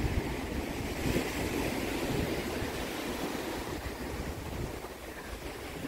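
Waves washing ashore at Mattu Beach near Udupi, a steady, fairly distant surf roar mixed with wind buffeting the microphone, continuous with no voices.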